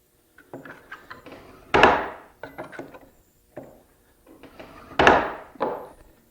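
A burnishing tool works a burr onto the second edge of a steel cabinet card scraper, giving light clicks and taps with two sharper, louder scraping strokes, close and otherwise quiet.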